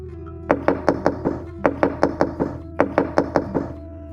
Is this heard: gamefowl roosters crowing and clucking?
no